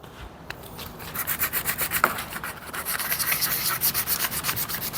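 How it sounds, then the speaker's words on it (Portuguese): Sandpaper of 120 grit rubs back and forth across a plastic surface being prepared for welding, a steady run of close, scratchy strokes with no talking. "Vou lixar toda a área."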